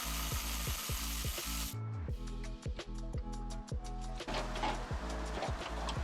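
A power tool runs on a Mercury Grand Marquis, taking out the 11mm window regulator bolts, with a close steady whirring hum, short pauses and bursts, and metallic rattling.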